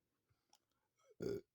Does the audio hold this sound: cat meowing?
no